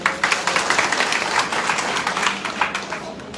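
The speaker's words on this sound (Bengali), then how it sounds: "তাদের জন্য একটা জোরে হাততালি" Audience applause at a divisional entrepreneurs' conference in Mymensingh, a dense burst of many hands clapping that starts loud and slowly thins out over a few seconds.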